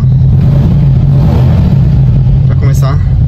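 A Volkswagen Beetle (Fusca) engine with a suspended accelerator pedal and a new alternator voltage regulator revs hard and steadily, loud and close, with a constant low rumble and a voice briefly speaking over it.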